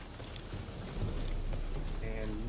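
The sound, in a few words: rain in video game The Witcher 3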